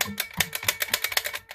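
Rapid plastic clicking from a video game controller's buttons being pressed repeatedly, about a dozen quick, close, crisp clicks in an uneven rhythm with no talking.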